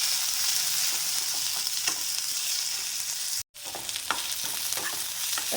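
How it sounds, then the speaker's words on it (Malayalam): Green chillies and curry leaves sauté in a pan with a steady, close frying sizzle and occasional stirring scrapes, with no talking. "2 പച്ചമുളകും കൂടി ഇട്ട് കൊടുക്കുന്നുണ്ട്. ഇതും കൂടി ഒന്ന് വഴറ്റിയെടുക്കാം."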